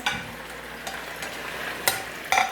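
Ginger garlic paste fries in hot oil in a pan with a constant sizzle, and a spoon stirs it, scraping the pan with a few sharper knocks.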